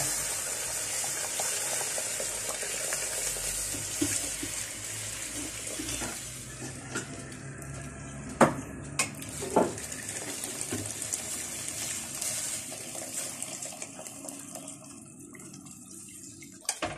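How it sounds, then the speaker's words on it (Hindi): Hot water pours from a container into a pan of frying lamb head curry with chillies, a continuous close splashing stream over a faint sizzle, with a few clinks near the end. "अब हम इसमें पानी भर के डालेंगे"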